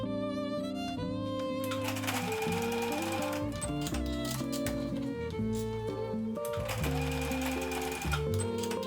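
A sewing machine bastes elastic onto the ends of a fabric sleep mask sewn from leftover scraps. It runs steadily and fairly loud, with a dense, continuous mechanical whir that carries strong tonal layers.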